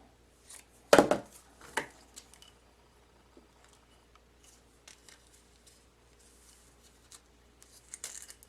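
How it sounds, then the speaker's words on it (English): Scissors trim the edge of a rhinestone tumbler wrap with a sharp, close snip and a second softer cut, followed by faint scattered clicks and rustles in a quiet room. "Let me trim this off the edge."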